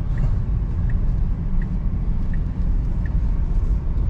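A Tesla Model S Plaid accelerating normally, heard from inside the cabin as a steady low road and motor rumble with a faint repeating tick, no talking.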